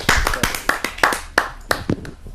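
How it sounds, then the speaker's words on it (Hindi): Audience applause at a Hindi poetry recital on Netaji Subhash Chandra Bose, heard as loud, close, uneven claps with sharp irregular bursts through a couple of seconds. "आप सबकी जोरदार तालियों से।"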